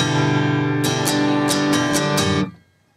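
Acoustic guitar playing the pre-chorus strumming pattern from a song, a sustained ringing chord with about six sharp strums in a steady rhythm, then cut off and muted near the end; no talking.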